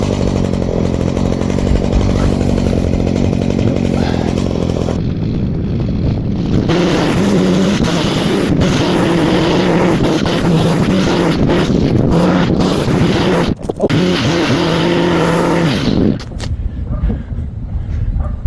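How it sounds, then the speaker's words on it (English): A garden leaf blower roars steadily up close outdoors, pushing fallen leaves back onto a lawn, with wind buffeting the microphone and the motor's pitch wavering as it is swept around. "All these leaves, blow them back onto the grass, and then mow over them."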